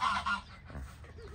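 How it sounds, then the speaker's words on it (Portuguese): White guinea fowl calling outdoors on a farm with rabbits and a rooster nearby, giving a few loud, harsh honking cries at the start, then fainter calls trailing off. "Olha a angolinha lá, gente"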